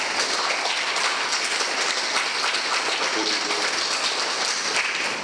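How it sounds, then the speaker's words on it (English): An audience applauds an agriculture award recipient with sustained, dense clapping throughout, fairly loud, with some talk mixed underneath. "So, a round of applause."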